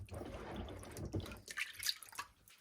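Warm mash brew for horses is stirred in a bucket, giving close, quiet wet sloshing and dripping that comes in uneven bursts.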